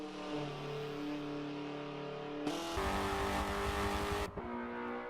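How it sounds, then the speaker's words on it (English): A 2019 Hyundai Veloster Turbo lapping Lime Rock's South Chicane in Forza 7, its engine droning steadily, then surging into a louder, brighter full-throttle run before dropping back, heard alone without talk. "Our second lap around the Lime Rock South Chicane saw the 2019 Hyundai Veloster Turbo, also known as the second generation Hyundai Veloster Turbo."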